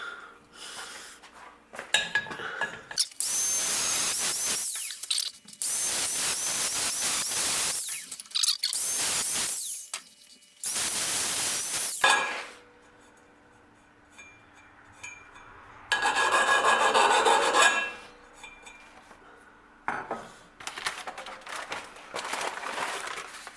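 Loud bursts of power cutting on a 1940 Chevy steering column, several long high-pitched grinding runs separated by pauses, close and harsh.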